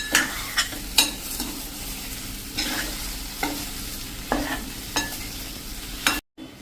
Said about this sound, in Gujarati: હવે આ બધું આપણે મિક્સ કરી લેશું